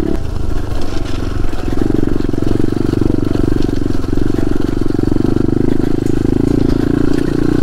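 A pit bike engine labours loud and steady over rocky ground, with clutch slipping and the motor droning close and continuous with a rattling, rough edge.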